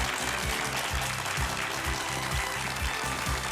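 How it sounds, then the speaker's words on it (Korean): Audience applause greets a guest, a VMD design consultant, onto a Korean TV talk stage, steady dense clapping filling the room with a low rhythmic beat running underneath throughout. "큰 박수로 맞아주세요."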